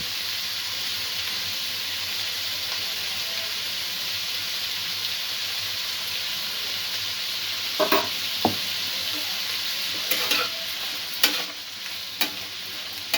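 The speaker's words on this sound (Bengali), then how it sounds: "আলু আর ভুট্টার দানাটা একটু কিছুক্ষণ আমি ভাজা হতে দেব।" Diced potatoes and sweet corn kernels fry in a pan with a constant loud sizzling hiss. A few scraping stirs come near the end.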